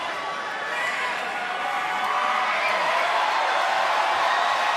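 Steady roar of a large arena crowd at a WWE Raw wrestling match between Rhea Ripley and Asuka, a dense wash of cheering voices sustained throughout at even loudness with no single voice standing out.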